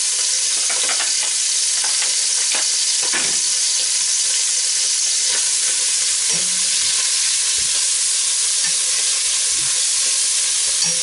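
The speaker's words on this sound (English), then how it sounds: "we're frying those at a high rate because we want to get all that flavour out of them" Bacon lardons fry in a pan with a loud, continuous sizzle, punctuated by occasional scrapes and clinks of stirring, no talking.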